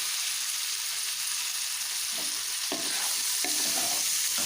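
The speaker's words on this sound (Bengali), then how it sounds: "পেঁয়াজটা দিয়ে ভালো করে নাড়াচাড়া করে নেবো" Chopped onion is stirred and fried with vinegar in a hot wok for a vegetable chowmein. A steady sizzle runs throughout, and spatula stirs and scrapes break in during the second half.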